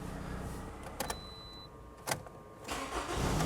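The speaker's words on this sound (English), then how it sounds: "Right there, the engine starts." A 2009 Toyota Rav4 engine cranks and starts, with a few short clicks and a brief burst followed by a rising, steady idle rumble close by.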